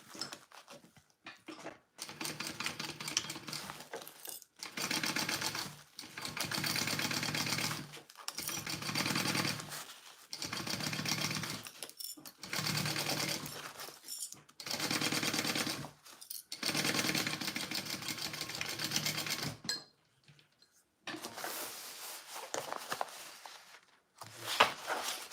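A sewing machine stitches a Riverwalk Sling bag in runs of steady, rapid whirring a few seconds long, separated by brief quiet pauses and small handling noises, close and fairly quiet with no talking.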